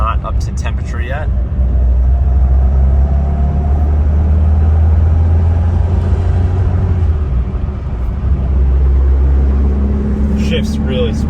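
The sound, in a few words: 1973 BMW 2002 engine while driving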